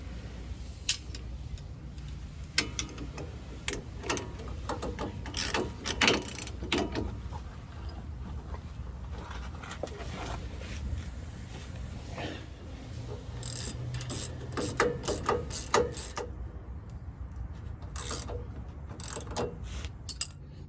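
A wrench tightens a bolt on the front suspension bushing of a 2007-2013 Chevrolet Silverado LT, giving bursts of close ratcheting clicks and metallic clinks with pauses between them.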